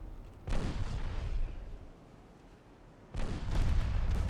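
Naval guns fire shells in a video game battle set in a 1960 Ottoman campaign, giving two heavy booming salvos with rumbling tails and a quieter stretch between them.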